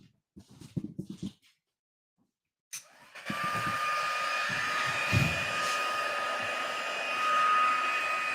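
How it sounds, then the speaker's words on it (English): A heat gun blows with a steady, loud airy roar, embossing a stamped card after a few soft clicks and handling noises; the whooshing drone runs continuously to the end. "I'll just grab my heat gun."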